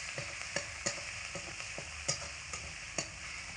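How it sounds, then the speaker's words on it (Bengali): Ginger and green chili stirred in hot oil, a low steady sizzle broken by sharp clicks of the spatula against the pan every half second or so, close and fairly quiet. "হালকা একটু নাড়াচাড়া করে নেব আদা আর কাঁচা লঙ্কা, যাতে করে কাঁচা গন্ধটা দূর হয়ে যায়"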